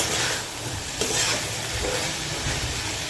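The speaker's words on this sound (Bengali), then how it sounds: "নাড়াচাড়া করে মশলাটি মিশিয়ে নিচ্ছি সবজির সাথে" Spices and vegetables stirred and fried together in a pan for a Bengali kachki shutki fish curry, a steady broadband sizzle with scraping stirs running continuously and fairly close, no talking.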